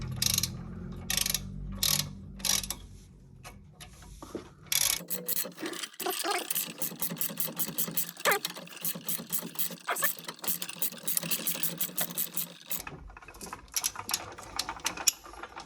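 Rear brake caliper bolts on a 2015 Silverado tightened by hand with a ratchet, a fast run of close, crisp clicking pawl strokes in rhythmic bursts, with a low hum at the start.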